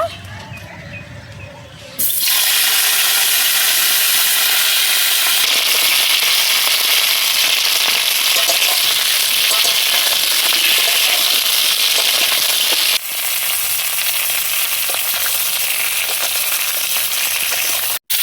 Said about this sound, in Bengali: তো মাছ ভাজা তেলেই আমি ফুলকপি আর আলুটা ভেজে নেব।